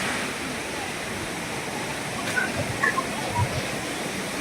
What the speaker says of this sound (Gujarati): નદી ચાલુ જ છે પાણી આવે જ છે